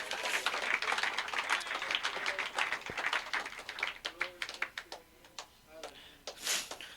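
A church congregation claps during a worship service, a dense run of sharp claps that thins and becomes more scattered toward the end, with faint voices underneath.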